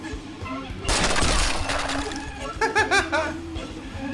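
Dunk tank in a video game dropping a clown into the water, a sudden loud splash followed by a burst of laughter, with talk nearby.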